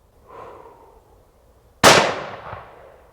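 Suppressed Haenel Jaeger 10 rifle fires one sharp shot that cracks and then rolls away in a decaying tail, heard after a stretch of quiet breathing-like background.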